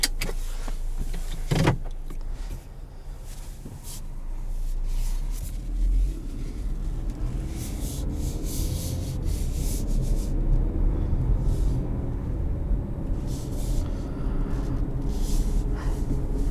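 Cabin sound from a 2020 Chevrolet Equinox Premier pulling out and driving on the road: a steady low road and engine rumble builds gradually, with a few brief clicks and rubbing noises early on, no talking.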